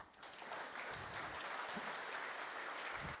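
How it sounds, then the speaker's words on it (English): An audience applauds a cellist after a performance, a steady wash of clapping from many hands that holds at an even level for the whole stretch, with no voices over it. "I'd just like everyone to applaud this extraordinary cellist one more time."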